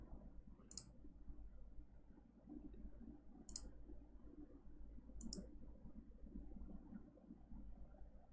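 Sharp clicks from a new computer keyboard, heard in a few separate bursts over a low steady hum, with no talking.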